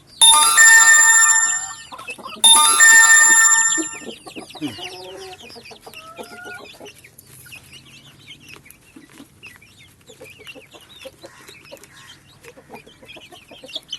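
Karinkozhi black chickens pecking at feed in a coop, giving soft scattered clucks and low calls close by, after two loud bright tonal bursts at the start.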